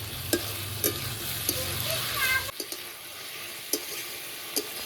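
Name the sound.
Malabar spinach frying in a pan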